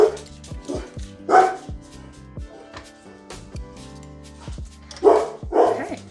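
Dogs barking near a home kitchen, several loud, sharp barks in irregular bursts with short yips between them, close and clear over a quiet background hum.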